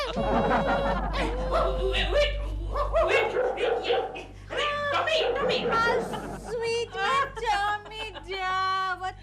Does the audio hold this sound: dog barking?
yes